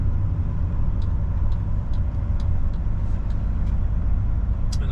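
A truck loads at a busy depot, with a steady low rumble of idling engines and faint scattered clanks and hisses over the top, continuous and moderately loud.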